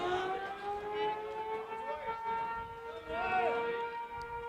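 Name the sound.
tornado sirens sounding on Friday afternoon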